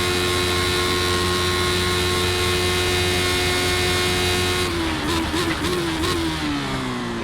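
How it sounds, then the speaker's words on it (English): A Lotus 79 Formula 1 car in a racing video game howls at high revs, its steady engine tone stepping through upshifts with sharp pitch drops near the end, loud and alone without talk. "Oh! What a feeling coming up through this gearbox. This massive straight, and this absolute beast of an F1 car."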